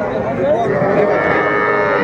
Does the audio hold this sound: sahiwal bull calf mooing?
yes